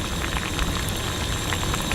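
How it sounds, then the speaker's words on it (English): Liquid with red cabbage boiling in a beaker, a dense, steady bubbling hiss with tiny popping bursts, close and continuous for the whole stretch. "You like that boiling sound?"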